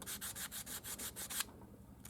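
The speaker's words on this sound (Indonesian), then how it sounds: "Kita amplas yang bersih dan juga kita bersihkan" Sandpaper rubs against the ground mount of a dynamo-ampere starter-generator on a T120 SS, giving a close series of rhythmic back-and-forth scratching strokes, about eight quick passes, followed by a brief pause and one more stroke.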